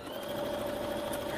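A sewing machine stitches quilt fabric in a quick, continuous whirring hum with a steady mechanical pulse, close and moderately quiet, with no voices over it.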